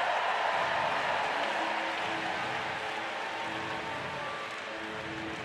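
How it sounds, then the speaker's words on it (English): A crowd at the London 2012 Paralympic swimming final claps and cheers after a relay win, a dense, steady wash of applause that fades slightly toward the end. "The Dutch going bonkers at the end of that win for Michael Schumacher"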